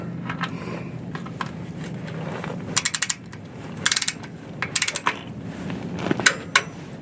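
A torque wrench set to 25 foot-pounds on an RV rear differential gives a few sharp mechanical clicks and ratcheting bursts in pairs and small clusters, close and moderately loud, separated by quieter handling noise.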